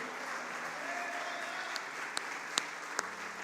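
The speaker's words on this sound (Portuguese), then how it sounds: "Você pode aplaudir o Senhor?" A church congregation applauds steadily and evenly at a moderate distance, with a few sharper single claps standing out near the end.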